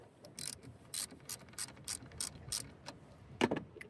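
A ratchet with a 10 mm socket turns a car battery terminal nut, giving a series of quick, close clicking bursts in an uneven rhythm, with one louder click near the end.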